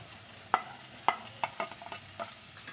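Corn and mushrooms stirred into frying shrimp and chicken for a corn mushroom soup: a soft sizzle under several sharp spatula knocks and scrapes against the pan, close and without speech.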